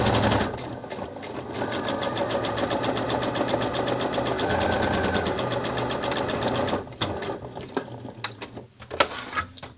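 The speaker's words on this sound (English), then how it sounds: "So now what I'm going to do is just sew this seam," A domestic sewing machine runs fast and steadily while stitching a bra seam, with a rapid even mechanical rattle that stops near the end, followed by a few scattered clicks and handling sounds.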